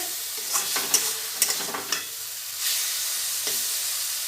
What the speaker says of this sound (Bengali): এবার একটু আমচুর পাউডার দিয়ে দিচ্ছি আর একটু কষিয়ে নেব